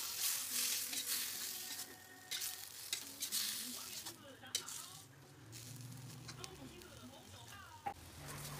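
Chicken pieces frying in a pan for spicy chicken cireng, giving a continuous soft sizzle with occasional stirring scrapes, fairly quiet and close, with a voice talking over it.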